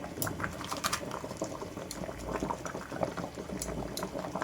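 Cabbage leaves simmer in a pot of boiling water, giving a close, continuous bubbling and popping with small liquid splashes, fairly quiet overall.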